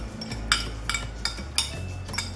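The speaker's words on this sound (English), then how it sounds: "So we're gonna mix this together" Salmon cake mixture being stirred with pork rinds in a bowl, a spoon clinking against the dish about six times in a steady rhythm over soft scraping, close and fairly quiet.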